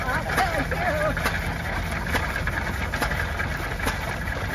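Classic Oldsmobile car engine idling at a national club show, a steady smooth low rumble heard close, with people talking over it.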